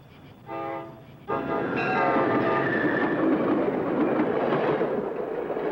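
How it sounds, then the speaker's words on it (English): A passenger train sounds a short horn blast, then a louder, sustained horn tone over the growing, continuous rumble of cars rolling along the rails. "We take the train now. It's a 12-hour trip."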